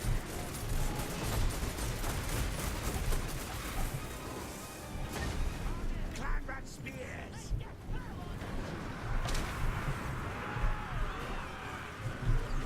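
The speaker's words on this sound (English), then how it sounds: "the rattling gunners have arrived" Skaven ratling gunners fire in a fantasy strategy game, a dense crackle of rapid gunfire and crashing impacts running continuously under battle noise and a voice talking over it.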